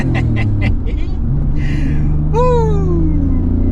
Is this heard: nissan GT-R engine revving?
yes